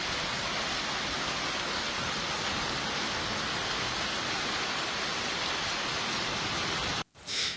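Heavy storm rain falls in Tarazona, Spain, as a dense, steady hiss of downpour that fills the scene without pause before cutting off abruptly near the end; no voices are heard.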